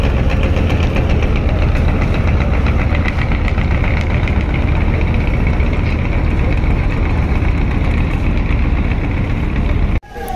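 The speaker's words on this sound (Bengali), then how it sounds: "আর এই যে ট্রলারটি এখন যাচ্ছে।" A trawler boat's diesel engine passing on the river near a Barisal launch ghat, a loud, steady knocking chug that holds close throughout and cuts off abruptly at the end.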